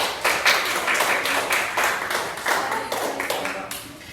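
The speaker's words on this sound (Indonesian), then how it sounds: "Beri tepuk tangan untuk semuanya." Students in a classroom clap together for all the groups, a lively, slightly uneven patter of many hands with some louder close claps, steady for several seconds and without talk.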